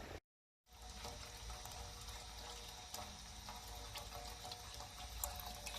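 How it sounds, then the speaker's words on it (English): Fuel pouring steadily from the tank of a cheap quad bike, a continuous close trickling rush running without a break after a brief dropout at the start. "I've just drained that whole tank"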